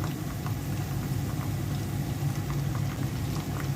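Ginger garlic paste hitting onions frying with bay leaf in a pan for a beef and new potato curry gives a steady, low, unbroken sizzle and bubbling hiss, close and alone with no voices.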